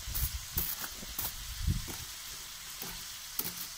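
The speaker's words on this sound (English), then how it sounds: "Now we're gonna put this vegetable in. Cabbage." Shredded cabbage frying and sizzling in a pan over a Trangia camping stove, a steady close hiss broken by soft scraping stirs, with no talk.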